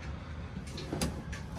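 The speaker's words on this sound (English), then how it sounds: "Drawers pull out nice." New drawers in a lifted 2021 Gulf Stream B Touring Cruiser 5210 RV are pulled open. A few quick, smooth sliding rumbles and a soft knock come from close by, over a steady background hum.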